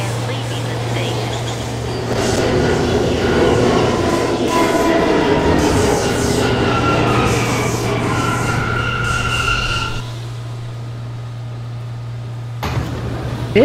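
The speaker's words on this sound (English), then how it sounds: "This is a Brooklyn-bound C local train." A Brooklyn-bound New York subway C local train arrives at the 42nd Street Port Authority station, with a steady loud rumble and screeching wheels and brakes as it slows, a constant low electrical hum throughout, then quieter platform ambience as it stops.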